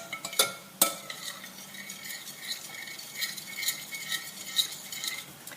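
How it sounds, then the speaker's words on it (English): Ingredients being stirred in a mixing bowl for braided cheese Danish pastry dough, with yeast just sprinkled in: soft repeated scraping and light clinks of a utensil against the bowl, plus a couple of sharper taps near the start. "I'm going to stir that up a little bit."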